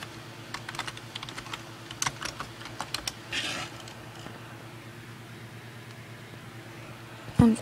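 Rapid bursts of typing on a computer keyboard while entering commands in a game, crisp key clicks in quick clusters over the first three seconds, then sparse taps over a steady low hum, ending with a louder knock.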